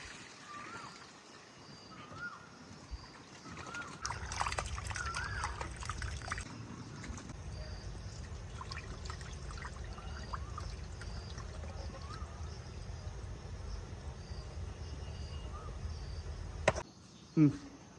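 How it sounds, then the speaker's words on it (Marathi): Water pours and splashes steadily for several seconds as raw chicken is rinsed in a bowl, with a couple of clattering knocks near the end. "आता चिकन स्वच्छ पाण्याने धुवून घेऊ"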